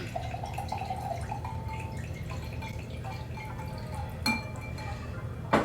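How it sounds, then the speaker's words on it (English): A margarita pours steadily into a glass of ice, with a soft trickling wash and a couple of sharp clinks as ice shifts near the end. "I'm gonna pour it into my glass. I have my glass here already with ice."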